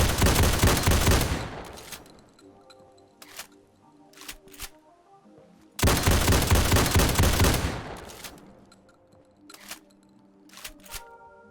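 A prototype AA12 assault shotgun in Fallout 4 unloads in two rapid full-auto bursts of loud, dense blasts, each followed by metallic clicks and clacks of magazine reloading handling.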